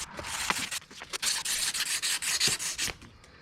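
Sandpaper is rubbed by hand across a metal mower deck part in quick, uneven back-and-forth strokes, close and fairly loud, with short pauses between bursts.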